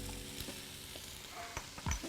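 Meat frying in a pan gives a steady, quiet sizzle close by, with a few soft clicks and scrapes of stirring over the hiss.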